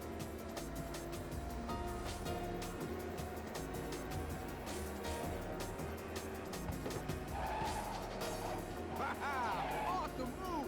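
Racing car engines in the video game Ridge Racer 2 drone steadily and continuously with sharp tire squeals rising near the end, all set under excited talk throughout.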